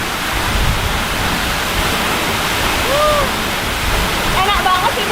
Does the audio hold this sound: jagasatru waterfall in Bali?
yes